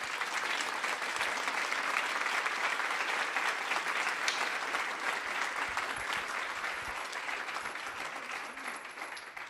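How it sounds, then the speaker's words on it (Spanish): Applause from an audience at a journalism talk fills the room, a dense, even crowd of clapping that continues steadily and fades slightly at the end. "les pido un aplauso cariñoso para el maestro John Lee Anderson."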